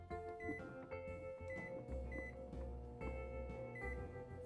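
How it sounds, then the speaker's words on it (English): A microwave oven heats a batter made with almond flour, baking soda, Himalayan sea salt and butter, humming faintly and steadily with a few soft clicks and beeps in a quiet kitchen. "Microwave. Now, I'm going to put it on here"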